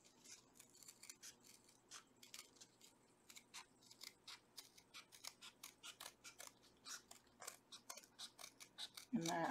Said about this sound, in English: I cut it away.